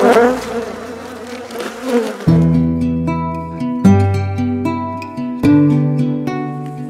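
Honeybees buzz inside a poly hive damaged by an attack in January, a dense, close hum that swells in sudden surges and then holds steady in layered droning tones.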